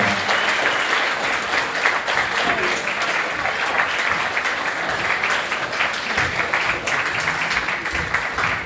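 An audience at a school athletic achievement ceremony applauds award winners, a sustained, dense clapping that holds steady for several seconds, fairly close and full, with faint cheers mixed in.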